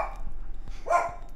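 A dog barks a few times in a quiet room during a late-night Rainbow Six Siege gaming session, short yips and a stronger bark near the end, fairly close and moderately loud.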